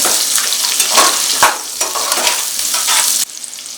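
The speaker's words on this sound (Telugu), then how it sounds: "ఉల్లిపాయ వేసాక ఒకసారి కలుపుకోవాలి" Chopped onion sizzles in hot oil in a pan while being stirred for a soya chunk biryani, close, loud frying hiss with scraping strokes of the spoon, easing slightly at the end.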